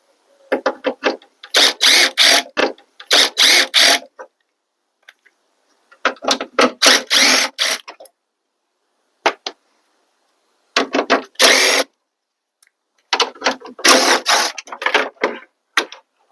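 A 10 mm ratchet works on the headlight bolts of a Chevrolet Tahoe, giving several loud, close bursts of rapid clicking separated by silent pauses.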